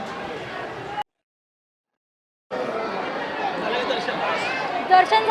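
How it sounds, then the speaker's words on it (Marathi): Dense babble of devotees packed into the Akkalkot temple darbar, a continuous murmur of many voices that cuts out to silence briefly near the start, then resumes and swells. "गर्दी बघ."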